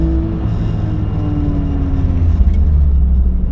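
A 500whp BMW 335i pulling hard on the Nürburgring, a loud, steady in-car engine drone with rising harmonic tones and low rumble, continuous throughout with no talk.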